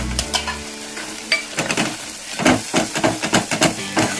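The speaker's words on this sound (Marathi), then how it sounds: "वाटण चांगलं तळून घेऊ." Ground black masala paste (kala vatan) frying and being stirred in a pan for an eggplant bhaji, with close scraping strokes and bursts of sizzle building into a steady rhythmic stirring; no talk.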